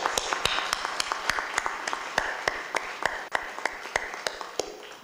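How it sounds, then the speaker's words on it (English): At a senior center groundbreaking ceremony, a modest audience claps for Sandy, with sharp, distinct individual claps ringing out over a softer, steady patter, fairly close and continuous throughout. "Let's give Sandy a round of applause."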